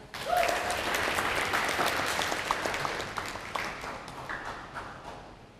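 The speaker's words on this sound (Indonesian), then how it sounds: "mari kita beri tepuk tangannya meriah" An audience claps at a student law debate semi-final, a dense, lively wave of applause that swells quickly, holds strong for several seconds, then gradually thins and fades, close and filling the room.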